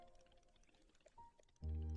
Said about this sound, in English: Alright, watering the plants.